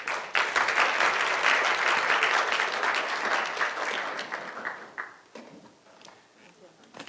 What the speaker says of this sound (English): So please give them a big applause again.